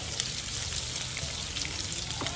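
Ilocano onions hit a hot pan, giving a dense, continuous frying sizzle with fine crackling pops, steady and close, with no voices.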